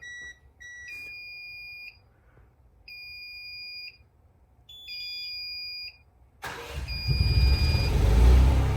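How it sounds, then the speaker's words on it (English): An automatic standby generator system beeps with repeated electronic alarm tones in short bursts, then the generator engine starts and roars loudly close by while a beep continues over it. "Ten seconds for generator start."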